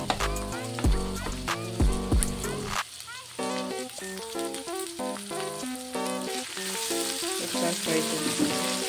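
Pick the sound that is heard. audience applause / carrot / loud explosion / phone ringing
carrot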